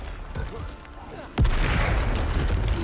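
A Bombarda spell explosion in Hogwarts Legacy bursts with a sudden loud boom and a rumbling tail, after a quieter stretch of faint game sounds.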